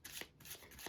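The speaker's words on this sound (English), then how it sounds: "And I shuffle," A deck of playing cards is shuffled close up, giving a few quick papery riffles and flutters with short pauses between bursts, no talk over it.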